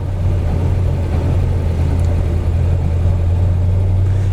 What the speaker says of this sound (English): Inside you've got a nice healthy exhaust note, but it's not too loud